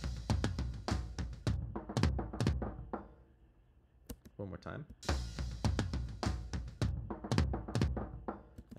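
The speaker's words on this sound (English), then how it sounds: "Here's the same kind of thing with some snare hits between floor tom hits." Edited drum recording: sharp snare hits alternating with deeper floor tom hits in a steady groove, with a brief pause midway and a few spoken words, fairly quiet overall.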